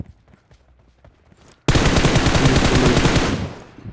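Automatic gunfire in a video game: after near silence, a loud sustained rapid-fire burst erupts and rattles on for about two seconds before fading out.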